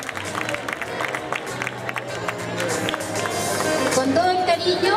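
A crowd at a school farewell and graduation ceremony claps, scattered applause swelling and growing louder toward the end while a voice speaks over it.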